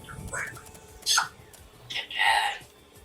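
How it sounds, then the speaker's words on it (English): A parrot in an indie horror game, The Parrot That Summons Demons, lets out shrill, rising squawks in two sharp bursts, the second longer and louder, over a quiet, murmuring background. "The parrot's voice screams."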